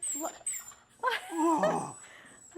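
Blonde terrier beagle mix dog at a shelter whimpering and whining in short, high yips and drawn-out cries, close by, with people talking in the background.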